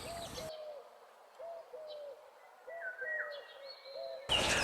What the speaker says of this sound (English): Now I can actually hear quite a lot of birds around me here.